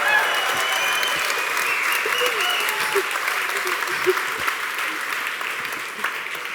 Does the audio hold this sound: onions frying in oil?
no